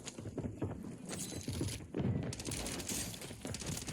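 Gunfire in the Warzone video game on Rebirth Island crackles in dense bursts of rapid shots, loud and close, layered over ongoing game noise with no clear voices.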